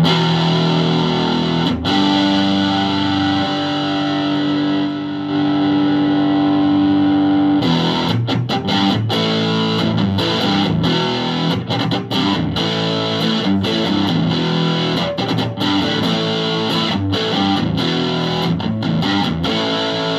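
Distorted electric guitar, an Epiphone Les Paul Special with both pickups on, plays alone, starting with a held, sustained tone, then switching to a busier run of chugging, crunchy strums that carries on to the end.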